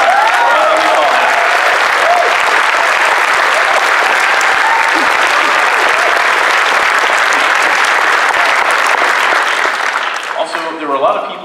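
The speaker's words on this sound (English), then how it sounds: "So really a round of applause for Cheetah." Large convention audience at the 2017 Midwest FurFest closing ceremony breaks into loud, sustained applause and cheering that fills the hall for around ten seconds before thinning out as a voice returns at the end.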